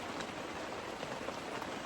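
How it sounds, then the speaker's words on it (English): Steady rain patters continuously on surfaces outdoors during a rainy hunting trip, an even wash of drops with no gaps or voices. "The rain is supposed to let up at 6 p.m."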